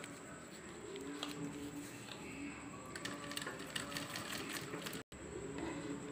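A sewing machine stitches a jute shopping or lunch bag with a steady, continuous whirr at low volume, broken only by a brief dropout near the end.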